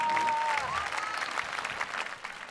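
Audience at an evening show in Pistoia breaks into sustained applause after the host's greeting, a steady dense wash of clapping with a faint tone sliding through the first second.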